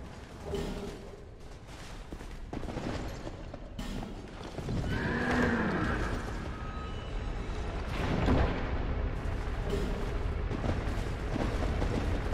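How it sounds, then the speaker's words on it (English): A horse neighs in the Dark Souls II video game, a clear whinny with clip-clop hooves and booming game effects around it, moderately loud in a dark fantasy setting. "Is that the horse?"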